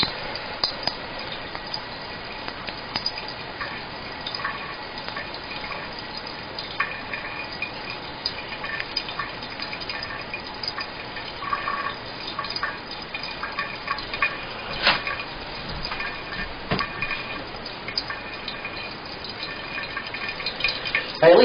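A toilet tank refills through a newly installed ballcock valve, a continuous hissing rush of water with slight gurgles and drips, steady and close throughout.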